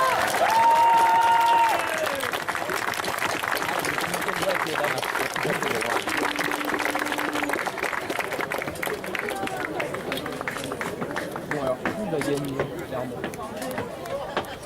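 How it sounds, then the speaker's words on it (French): Audience at a Saturday cosplay contest during the Yggdrasil festival claps throughout, a dense wash of applause mixed with crowd noise, with a voice talking over it and some tonal sounds early on. "un tonnerre d'applaudissements"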